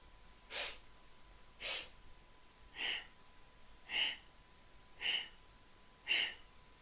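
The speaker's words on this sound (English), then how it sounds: "We're going to start to inhale for 4 sniffs through the nose." Sharp nasal sniffs come during kundalini yoga breathing, six evenly spaced bursts of air through the nose, close and distinct against a quiet room.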